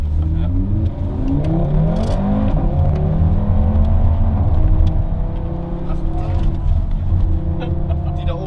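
Audi RS3 engine accelerating while driving, a loud, close, steady growl that rises and falls in pitch through the gears, with a brief voice underneath.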